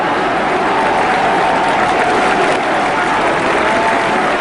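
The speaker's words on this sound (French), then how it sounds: "Lumumba est interrompu 8 fois par des applaudissements nourris" Sustained, loud applause from a large crowd greets Lumumba's independence speech, a thick unbroken wall of clapping that holds steady throughout.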